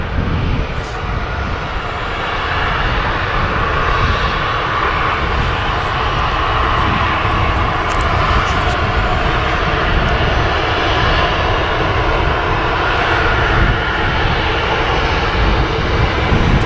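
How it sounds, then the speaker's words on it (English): An EasyJet Airbus A320neo taxis out at Manchester Airport, its jet engines a loud, steady roar and whine held throughout with no talking. "EasyJet A320 Neo on the taxi out."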